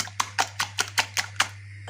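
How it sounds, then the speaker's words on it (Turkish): A hand whisk beats five eggs in a bowl with quick rhythmic clicks, about eight evenly spaced strokes, close up over a steady low hum. "Bir çırpıcı yardımıyla 5 yumurtamızı güzelce çırpıyoruz"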